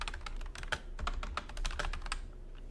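Typing on a computer keyboard, a quick, fairly quiet run of crisp key clicks in an uneven rhythm, with no voices present.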